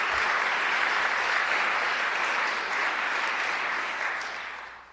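Large audience applause at a speech by New York Governor Kathy Hochul on community college funding: a dense, even wash of many hands clapping from a distance, sustained and then tapering off at the end.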